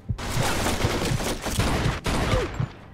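Enemy gunfire in the Mafia 2 video game, with a loud rapid fusillade of repeated shots in bursts and a short gap before the firing resumes.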